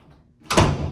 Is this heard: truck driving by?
no